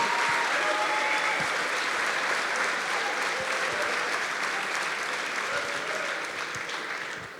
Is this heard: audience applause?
yes